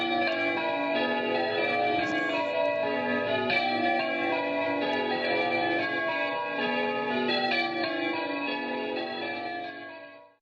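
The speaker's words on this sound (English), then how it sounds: "I'm just going to play you a little bit of music from the bells, which are quite famous" Church bells ring out in Cowley in the Cotswolds, a sustained peal of overlapping strikes that stays loud and full before fading away at the close.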